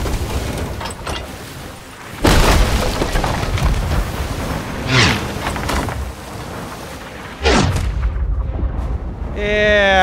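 Cannon fire from a ship in the pirate video game Sea of Thieves: several heavy booms land a few seconds apart, each followed by a rumbling tail, all under game background noise.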